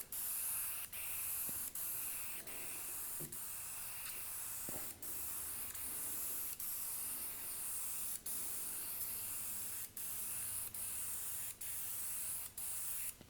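Sealer coat is sprayed onto a CNC-carved wooden photo in a continuous hiss, broken at regular intervals by brief pauses as the nozzle is released and pressed again. The spray sounds close and fairly quiet, and no one speaks.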